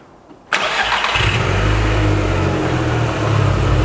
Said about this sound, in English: have John start our Audi TT up